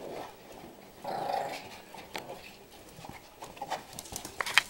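A puppy gives low, scrappy growls and snuffles while playing soccer, heard close but fairly quiet, with a few sharper bursts toward the end.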